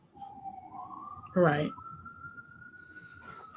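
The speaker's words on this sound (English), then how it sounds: "It's a fucking siren. You're supposed to hear it." A siren wails steadily in a residential neighborhood, a faint distant tone that holds and slowly rises beneath a person's voice.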